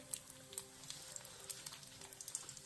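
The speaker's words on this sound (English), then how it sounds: "There's some more frying over here." Soft crackling sizzle of food frying on an off-grid wood cook stove, with scattered pops and spits over a steady low hum, fairly quiet and continuous.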